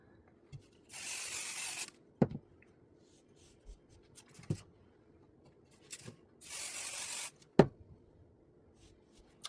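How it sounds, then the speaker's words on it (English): Basting spray hisses onto the corners of a fabric project in two short bursts about five seconds apart, with soft taps and handling sounds of smoothing fabric between them. "the only reason I'm spraying like that and just in the corners is to make sure I don't shift too much"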